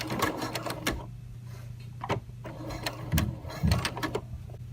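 Sewing machine set to its longest stitch length runs in short, irregular bursts of mechanical clatter and ticking, stopping and starting close by while an invisible zipper is sewn.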